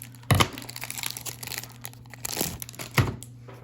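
Plastic wrapper of a 1984 Topps baseball card rack pack being torn and crinkled open, close-up, with three sharp crackling bursts separated by softer rustling.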